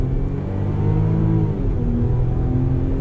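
A 2020 Range Rover Velar with a supercharged V6 accelerates on throttle through a turn, its engine a steady, smooth mid-pitched drone heard from inside the cabin, with rising tonal whine and no talk.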